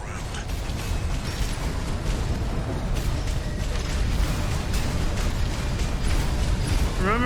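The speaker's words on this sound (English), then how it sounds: "In the air to get clear of explosions on the ground." Ground explosions in Armored Core 6: Fires of Rubicon during the first boss fight, a dense, continuous clatter of blasts and mechanical rattling over a steady rumble, moderately loud and unbroken, with no talk.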